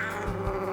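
An elderly cat, about fifteen years old, on a sheep farm gives a short strained meow or yowl, close and fairly loud, lasting under a second.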